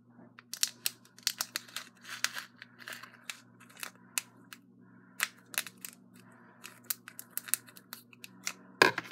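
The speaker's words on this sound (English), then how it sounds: "you will also need scissors to cut this" Scissors snipping open an Orbeez bead package, with irregular crisp cuts and plastic crinkles in quick clusters, close and fairly loud, ending in a louder rustle.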